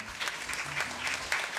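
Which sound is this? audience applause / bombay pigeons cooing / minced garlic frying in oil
audience applause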